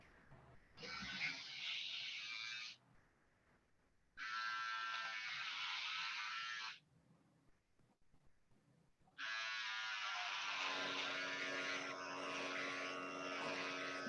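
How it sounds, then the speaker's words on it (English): An electric razor buzzes steadily as a son shaves a man, running in three sustained bursts separated by quiet pauses, fairly close and without talk over it. "he's shaving me right now."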